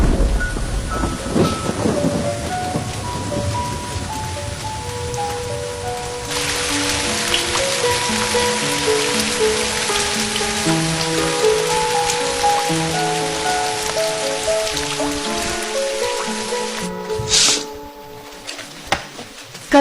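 Steady heavy rain pours down on a surface with a deep thunder rumble early on, while soft music tones drift over the downpour and a brief sharp crack breaks through near the end.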